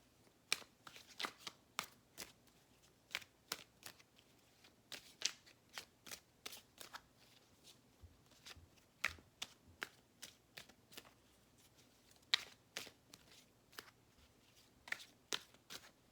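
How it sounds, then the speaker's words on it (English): Mystic Moon Oracle cards being shuffled, a quiet run of crisp riffling snaps and taps in an irregular rhythm, close and soft, with no voices. "I'm going to grab a couple Mystic Moon Oracles, Mystic Moon Oracle cards."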